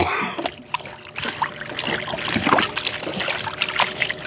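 Water splashing and sloshing as dried fish is swished and rinsed by hand in seawater, in irregular bursts, close and fairly loud.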